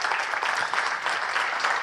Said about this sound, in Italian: L'applauso è totalmente meritato.